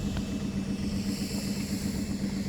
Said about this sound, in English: We've started the engine, you can hear it ticking over in the background